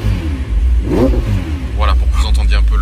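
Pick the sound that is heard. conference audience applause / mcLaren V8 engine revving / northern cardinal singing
mcLaren V8 engine revving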